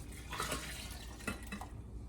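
Water pouring into a pot or blender while making meatball soup (albóndigas), a short splashing, gurgling stream with a couple of brief surges, close and fairly loud, no voices.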